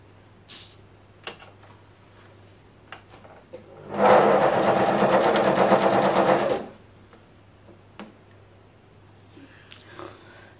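A sewing machine runs in one loud, close burst of about two and a half seconds, stitching a rice-filled heat pad, with quiet handling clicks before and after.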